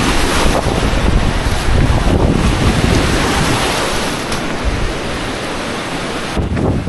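Strong southwest wind of around 17 to 19 knots over short, choppy waves on Lake Erie: heavy gusts batter the microphone in a loud, continuous rush, easing slightly toward the end, with the wash of water beneath.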